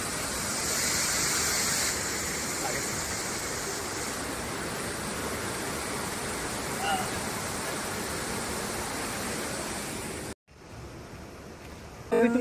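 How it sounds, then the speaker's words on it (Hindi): Rushing high-pressure water at Kota Palace makes a constant loud broadband roar, close and steady for about ten seconds before cutting off abruptly. "पानी का प्रेशर वहां देखना कितना ज्यादा है।"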